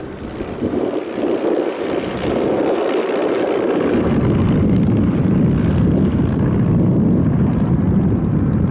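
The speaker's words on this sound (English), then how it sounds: "Now the lead aircraft, it's got a Renault engine, has an air start, which makes it so much easier." A vintage aircraft with a Renault engine runs at an airshow, loud steady propeller drone that swells into a fuller, deeper roar partway through, with no talk.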